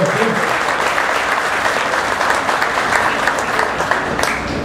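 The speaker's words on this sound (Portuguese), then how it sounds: "vamos agradecer o Alisson com a salva de palmas" Steady applause from an audience at a coffee-growing conference, a dense wash of clapping that holds evenly from start to finish.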